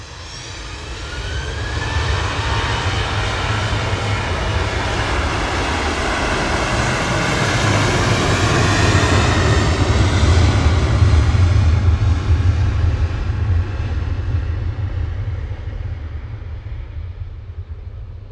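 A Ryanair Boeing 737-800 jet departs Manchester Airport bound for Corfu, its engines roaring loud and close in a broad, sustained rumble that swells toward the middle and eases slightly as it climbs away.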